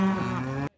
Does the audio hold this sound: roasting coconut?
no